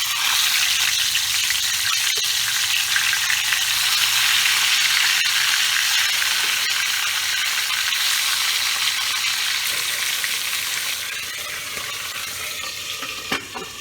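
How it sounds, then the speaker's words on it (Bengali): Tangra fish coated in salt and turmeric hit hot oil in a wok, a loud, continuous crackling sizzle up close that slowly settles slightly, with occasional clinks and no speech. "তাহলে আমি তেলটা গরম বসিয়ে দিয়েছিলাম, এবার আমি মাছগুলো ছাড়বো।"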